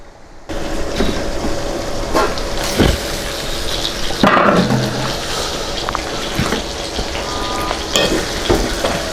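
Chicken frying in a karahi for Peshawari chicken karahi, a steady close sizzle with occasional stirring clatter and spatula scrapes, no talking.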